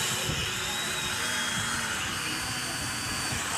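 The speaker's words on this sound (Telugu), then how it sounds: "ఫైనల్లీ అయితే డ్రోన్ ఎగరడం అయితే స్టార్ట్ చేసాము" A small budget camera drone flies nearby, its rotors giving a continuous high, buzzing whine at steady loudness.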